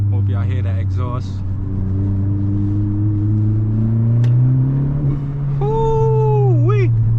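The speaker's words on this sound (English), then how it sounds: "That turbo sound good." A Honda Civic Si with a turbo pulls hard: a loud, steady engine drone rises in pitch throughout, and a brief swooping whistle-like tone appears near the end. A voice is also present.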